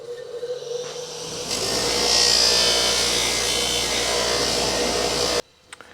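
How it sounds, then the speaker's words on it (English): A buffing wheel polishes the stainless trim of a 1965 Dodge Coronet, giving a steady, loud whirring grind that builds after a second and runs continuously for several seconds before cutting off abruptly. "let's try just this, the buffing wheel on that end"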